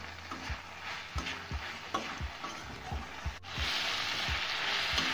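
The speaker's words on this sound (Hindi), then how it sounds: "हाई फ्लेम पे हमने पत्ता गोभी को भून लिया है" Cabbage stir-fries in a pan over a high flame, with a steady sizzle and rhythmic scraping of a spatula repeating roughly every half second, growing louder and hissier near the end.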